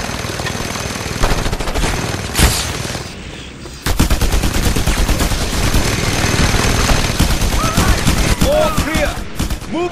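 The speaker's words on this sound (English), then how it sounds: "Mounted gun!" Dense bursts of automatic gunfire from a mounted gun in the video game Just Cause 2, loud and nearly continuous, with a brief lull before heavier sustained firing and faint chirping effects over the top.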